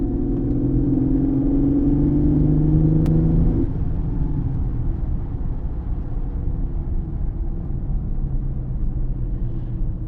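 A Mercedes car under acceleration on a test drive after a hesitation fault was fixed, its engine rising in a smooth drone and then settling into a steady road rumble, heard from inside the cabin.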